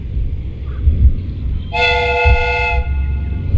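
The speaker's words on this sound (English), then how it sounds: "The steam whistle is ready to be used." A steam whistle on a replica train in a Sherlock Holmes video game blows one steady, bright, chord-like blast of about a second, standing out over a low rumbling background.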